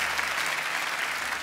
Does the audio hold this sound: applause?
yes